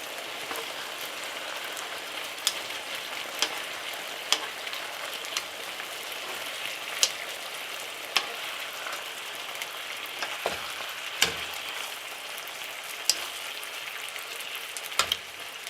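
Chicken pieces fry in oil in a pot for biryani, a steady bright crackling sizzle with scattered pops and a few soft clinks as the pieces are turned, no talking.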